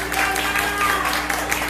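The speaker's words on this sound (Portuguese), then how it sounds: "Receba com palmas, por favor." Audience applause breaks out at a live show as a performer's mother is called to the stage, a short burst of clapping from the crowd with no clear talk.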